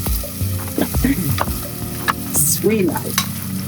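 Garlic and onion sautéing in a hot pan: loud, close sizzling with repeated scrapes and clatter of stirring, while a person talks briefly over it.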